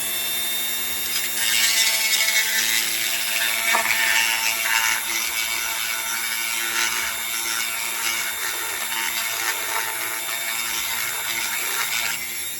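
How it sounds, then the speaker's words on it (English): A power grinding bit steadily working a hole wider for a snug fit during a motorized kayak build, a continuous high whirring grind held close for the whole stretch with slight shifts in pitch as pressure changes. "I could have just used the drill bit, but I like how I can gradually grind away and get a snug fit"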